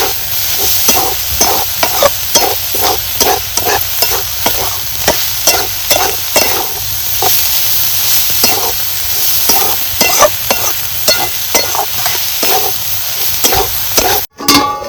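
Sarata leaf vegetable frying in oil is stirred with a spatula, rhythmic scraping strokes repeating steadily over a constant close sizzle.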